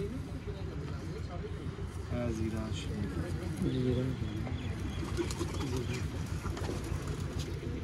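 Zeera and Sharmeela breed pigeons coo in low, rolling calls amid flock noise, with people talking nearby.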